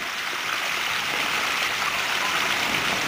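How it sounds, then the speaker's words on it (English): Water steadily trickling and splashing down a pondless stream of lava rock set against a cinder block wall, a continuous close hiss of flow with no voices. "This is a pondless stream against a cinder block wall, and essentially is lava rock, where water is brought up to a well, leveled off, and then overflows."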